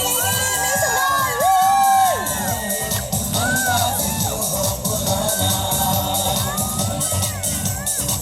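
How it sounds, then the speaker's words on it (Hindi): A lively audience at a dance performance cheers, whoops and shouts loudly and continuously, with excited young voices and crowd babble rising and falling over several seconds. "तालियां तालियां तालियां"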